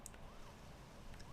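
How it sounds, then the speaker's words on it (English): Police car siren in Deadly Premonition, a faint wailing tone rising and falling twice, quiet and somewhat distant beneath low background noise. "Oh, that's my siren."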